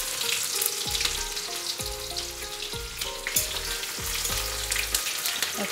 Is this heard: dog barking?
no